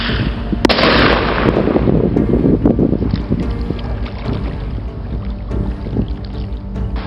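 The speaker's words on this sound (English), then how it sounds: "This is just a little pen launcher and a little true flare bear banger on top of it." A small pen launcher fires a bear banger flare on a wilderness river island in northern Saskatchewan, producing a sharp loud crack near the start over steady rushing water and wind noise that continues throughout.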